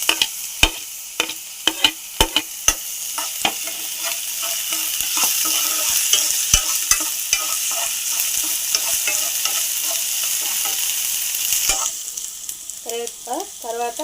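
Garlic, green chili and ginger paste frying in a pan with carrot pieces, a continuous bright sizzle broken by frequent clicks and scrapes of a spoon, close and fairly loud, with no talking.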